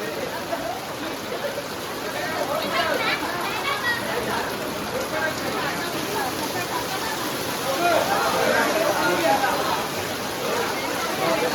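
Heavy rain pours over an outdoor Satyanarayan puja gathering, a dense steady roar of water with splashing, while people talk and call out under it throughout.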